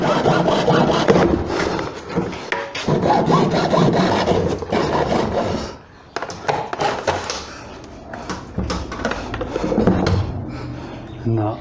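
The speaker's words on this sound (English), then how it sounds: "hacksaw." A hacksaw rasps back and forth through a Suzuki V-Strom 650 rear fender in rapid close strokes, with a brief pause midway, and a voice speaking over the cutting.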